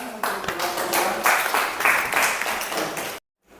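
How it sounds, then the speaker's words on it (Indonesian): An audience at a classroom presentation claps together in a short, dense burst of applause that fills the space for about three seconds and then stops abruptly. "Oke, terima kasih, tepuk tangan"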